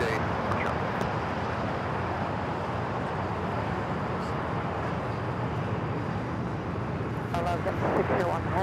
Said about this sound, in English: Cathay heading back to Hong Kong, now starting its roll down at 25 at right